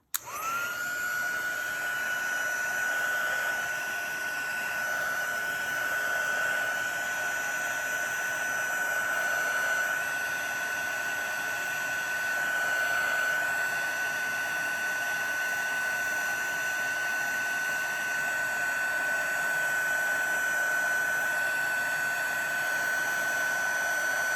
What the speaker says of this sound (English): bring our heat embossing tool out again